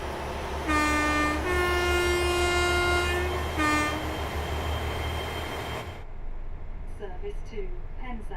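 A train on the Riviera Line in the Train Sim World 6 game sounds a loud two-tone horn blast, then rumbles away with steady engine drone and wheel noise; a voice talks over it.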